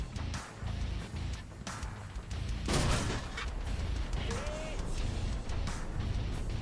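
Tank cannon fire in a World War II tank battle game, a loud blast near the middle with a boom and crash over constant battlefield rumble and engine noise.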